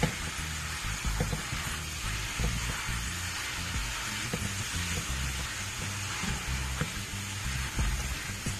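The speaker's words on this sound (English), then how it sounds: "You want to stir fry it, so let in a lot of air in the pot" Shrimp stir-frying in a pot for a spicy Jamaican curry, a steady broadband sizzle and hiss with low rumbling clatter of stirring throughout, fairly close and continuous.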